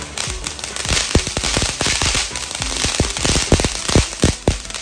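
Rapid firecracker bursts crackle through a Vishu festival celebration, dozens of sharp pops in irregular clusters over a continuous hiss, loud and close, with no talking.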